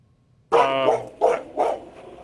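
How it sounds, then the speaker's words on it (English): A dog gives a loud bark followed by two shorter barks, close and prominent against near silence. "Loud barking."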